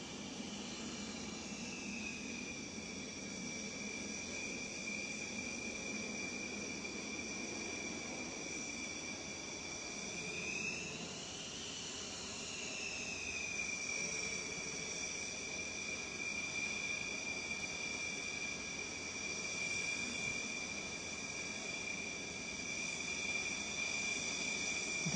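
A Rafale fighter jet's engine idles and taxis at an air force station before takeoff. It gives a steady, high whining tone over a broad, faint rumble, and the pitch briefly rises and dips midway. The sound is distant and continuous.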